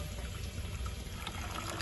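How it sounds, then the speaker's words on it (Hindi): Tamarind water poured into a yogurt and gram flour batter for kadhi, a faint continuous liquid trickle against a quiet kitchen background. "अब इसमें हमने 4 से 5 चम्मच ये देखिए इमली का पानी"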